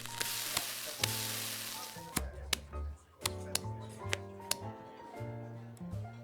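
Eggs cooking for cheese omelettes in the Sizzle & Stack cooking video game: a broadband sizzle at the start, then musical tones and sharp repeated clicks and ticks of game effects, fairly loud and without speech.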